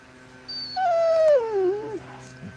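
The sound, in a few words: puppy whining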